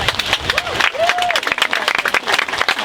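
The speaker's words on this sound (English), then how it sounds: "please give a warm welcome, round of applause to our delegate, Mr. Chris Hurst" A crowd claps and cheers in welcome for delegate Chris Hurst at the Hands Across the Appalachian Trail gathering. The applause is close and busy, with a brief whistling tone sliding through near the start.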